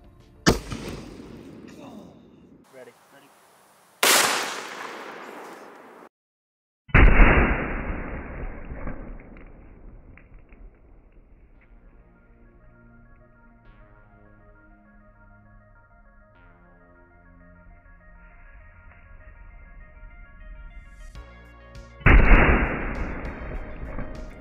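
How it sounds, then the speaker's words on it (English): Sharp rifle shots firing 53-year-old depleted uranium 7.62x51mm rounds, with a few loud cracks that trail into ringing, broken by quiet stretches where a voice talks and a tonal electronic hum sounds. "So let's shoot it again with the original load."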